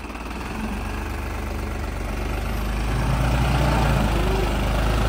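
New Holland 3630 tractor engine running steadily in first gear, a continuous low rumbling drone that grows slightly louder partway through, close by with no talking.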